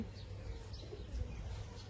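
Young pigeons, hatched in November and kept at home, coo softly and low. The murmuring is faint and steady, heard over a quiet background with no one speaking.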